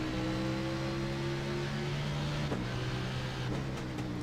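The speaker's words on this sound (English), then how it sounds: "You can just hear how they keep the car in such a high gear." A stock car engine held steadily in high gear in a racing sim, a sustained even drone at low level with faint clicks near the end.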